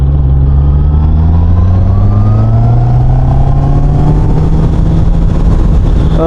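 A 2025 QJMotor RACE 600RS sportbike engine pulling in third gear on light throttle, a loud close drone climbing steadily in pitch throughout.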